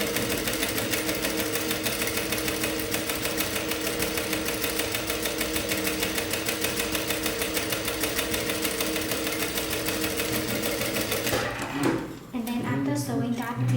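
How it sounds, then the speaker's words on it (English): A sewing machine runs continuously, stitching the seam of a square-neck top with puffy sleeves, with a steady mechanical whir close up, then stops near the end with a few clunks. "Keep sewing until the end here."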